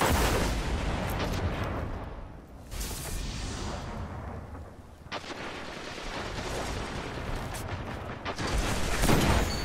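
Gunfire in the Destiny video game, repeated heavy shots and bursts in loud clusters with short gaps between them, close and punchy.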